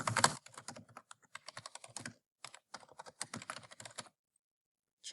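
Someone keys text into a word processor on a computer keyboard, producing close, crisp clusters of rapid key clacks broken by short pauses, with a longer silent gap near the end.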